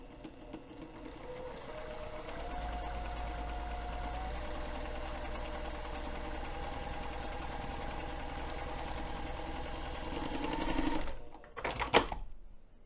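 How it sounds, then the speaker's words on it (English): Sewing machine running a long basting stitch along the lower edge of mesh for a bag pocket, a steady close motor whir with a fine rapid needle rhythm that runs for about eleven seconds, then stops with a few clunks. "we're going to sew the lower edge using a longer basting stitch"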